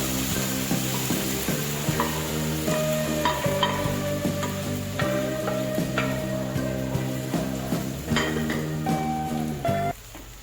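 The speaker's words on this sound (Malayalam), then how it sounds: "ഇതിലേക്ക് വേവിച്ച് വെച്ചിരിക്കുന്ന പച്ചക്കറികളെല്ലാം ചേർക്കുക." A spoon scrapes and stirs steadily through boiled vegetables and spices sizzling in a pan for vegetable kurma, with repeated knocks and clatters against the metal, close and continuous.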